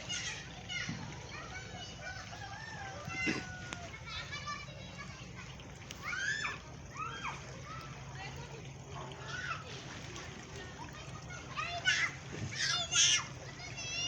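Swimmers splash in the sea at a harbour in General Santos where a large container ship is loading, children's voices and shouts carrying over steady water sloshing and splatters, with people talking nearby.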